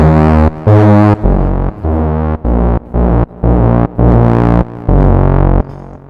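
Heavily distorted synth tone from the Odin 2 software synthesizer, a harsh, gritty buzz played as a run of separate loud held notes, each cutting in abruptly with no soft onset.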